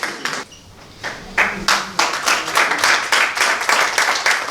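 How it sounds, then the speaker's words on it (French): Clapping from an audience at a children's fashion show, starting with a few isolated claps and building into steady, moderately loud applause with a distinct rhythmic pulse. "On les raccompagne avec les applaudissements."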